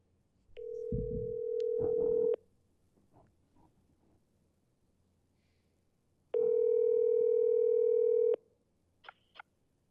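A telephone dial tone sounds while a call is placed, two steady loud tones lasting about two seconds each with a quiet gap between, followed by brief faint beeps.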